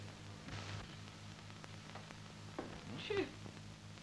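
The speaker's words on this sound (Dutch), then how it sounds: "Ah, daar hebben we poesie." A house cat gives a single brief meow near the end, faint over a steady background hiss and low hum.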